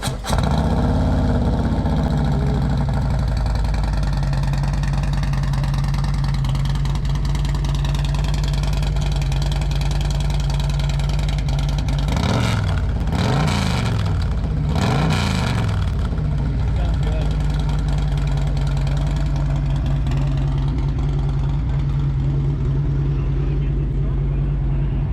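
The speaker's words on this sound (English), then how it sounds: "I took a clip of his Zwicky exhaust on there." Harley-Davidson CVO motorcycle with a Zwicky exhaust idling nearby, a loud steady low rumble with a couple of sharp throttle blips in the middle, parked alongside another bike.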